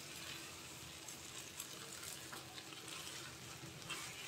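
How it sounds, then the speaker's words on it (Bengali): Egg noodles lightly frying in a pan, a steady dense sizzle with occasional stirring scrapes running through the whole stretch at close range, no voices. "আমি 2-3 মিনিটের মতো হালকা আছে ভেজে নেব।"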